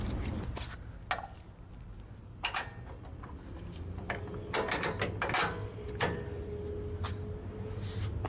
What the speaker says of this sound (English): This side is lower, so I'm gonna pound the bolt in here first.